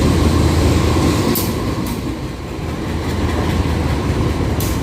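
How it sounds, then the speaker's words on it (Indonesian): A train rumbles steadily past a railway station in Indonesia on a Jakarta to Madiun route, with a loud, continuous rolling roar, faint wheel clatter and brief high squeals from the wheels. "Cuma dari tadi yang lewat itu kereta lain."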